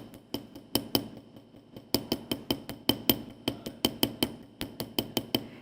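A texture hammer striking metal jewelry on a hard surface, sharp ringing metallic taps close up in quick irregular bursts of three to five blows, about thirty strikes in all, with no talking.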